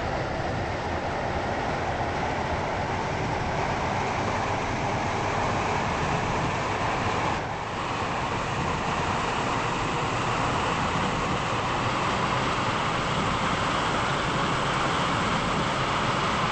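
A Stepford Connect passenger train in a video game rolls along toward Whitefield, giving a steady, even rumble of wheels and motors that continues unbroken for over sixteen seconds, with no one talking.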